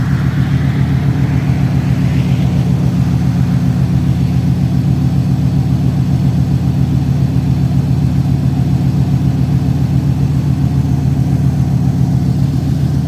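An OBS GMC truck's engine running at a steady idle, a continuous low, even rumble with a regular pulsing throb, close and fairly loud, no voices over it.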